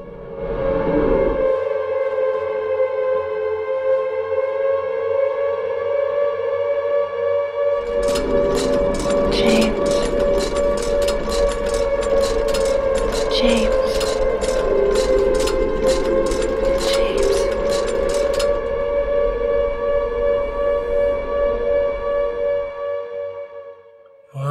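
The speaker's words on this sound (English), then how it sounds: "That siren." Civil defense siren in the horror video game Silent Hill 2, a long sustained wailing tone heard alone with a pulsing rattling layer joining midway before it cuts off.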